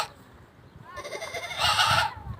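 A boy mimics a young goat with a drawn-out, quavering vocal bleat that swells louder toward the end, heard up close.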